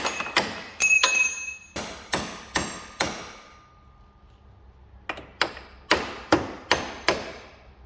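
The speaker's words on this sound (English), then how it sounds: "I literally got a cold chisel wedging it in there, and you got to hammer the crap out of it." Sharp metal-on-metal hammer blows on a cold chisel wedged into a 2021 Sportsman 850's axle area strike in bursts, a run of evenly spaced hits, a short pause, then another steady series, loud and close.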